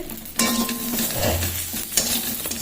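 Eggplant frying with neem leaves in a pan, a steady sizzle with stirring and clinks of a utensil against the pan, loud and close throughout.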